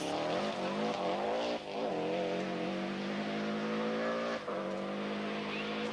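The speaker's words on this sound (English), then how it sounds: "see just how hard the Pirelli tyres that McRae uses are working on this hairpin" A Subaru rally car on Pirelli tyres corners a slippery forest hairpin high on a Welsh mountain stage, its engine loud and close throughout, revving hard and easing off a couple of times, with tyre squeal under the roar.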